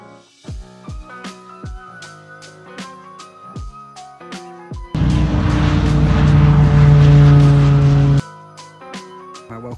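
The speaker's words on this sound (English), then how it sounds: "Not my best landing in the Cirrus" A Cirrus propeller airplane after landing, its engine droning with sharp clicks and knocks, then swelling to a loud, steady roar with a strong low hum for a few seconds before dropping away.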